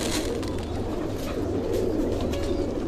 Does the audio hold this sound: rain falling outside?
no